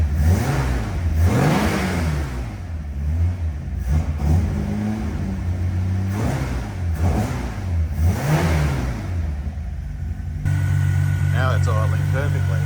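A 1969 Holden Torana GTR in Daytona Bronze, carburettor freshly fixed, revs up and down in repeated swells, then drops back to a steady idle near the end, loud and close.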